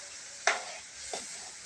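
Spices hit hot oil for a Gujarati vaghar tempering, two short sharp sizzling bursts over a quiet steady frying hiss, close by, with no voices.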